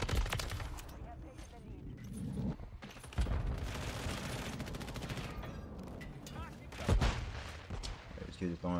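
Call of Duty MW3 match with dense bursts of gunfire and sharp blasts from thrown flashbang grenades, loud and continuous, punctuated by heavier bangs near the middle and end, with talk over the action.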